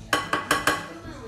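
Tapioca pearl mixture being whisked in a pot, heard as four quick metallic clinks and scrapes of a utensil against the pot in an even rhythm, close and fairly quiet with no talk.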